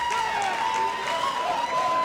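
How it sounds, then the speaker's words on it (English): A wrestling crowd at a dog collar match between Brody Hoofer and Playboy Pete Huge roars steadily in support of Hoofer, a dense, continuous wash of cheering and applause with no break. "The crowd showing their support for Hoofer"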